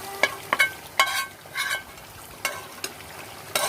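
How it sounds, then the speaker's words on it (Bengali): A dry red chili, onion, ginger and garlic mixture frying with beef for Bangladeshi kala bhuna, with sharp intermittent spatula scrapes and clanks against the pan over a low sizzle. "বিফের সাথে নেড়ে নিব, নেড়ে মিশ্রণটা ভেজে নিতে হবে"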